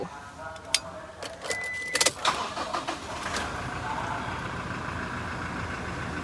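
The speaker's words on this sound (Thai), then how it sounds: "เดี๋ยวฟังลองสตาร์ทเครื่องให้ดู" Keys jingle, then a 2017 Toyota Revo 2.4E TRD Sportivo pickup's starter cranks and the engine catches, settling into a steady, close idle rumble.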